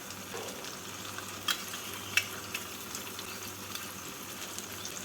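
Spice paste sizzles and fries with onion and tomato in a pan, a soft steady crackle with a few sharp clinks of stirring, close and fairly quiet, no voices.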